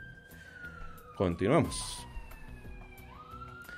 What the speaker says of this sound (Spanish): la ambulancia acaba de fondo